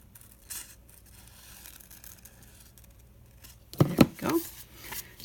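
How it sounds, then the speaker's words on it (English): Scissors cutting paper for a junk journal tag, a few crisp, close snips and rustles near the end after a stretch of quiet handling noise. "Let's line that up and cut this one off."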